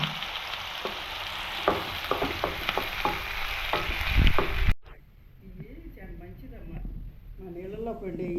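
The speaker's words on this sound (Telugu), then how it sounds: "ఉల్లిపాయ కలర్ వచ్చేదాకా వేసుకోవాలమ్మా." Chopped onions fry in a pan with cumin for a broad bean and tomato curry, a steady close sizzle with a few stirring clicks before it cuts off and someone talks over a quieter background.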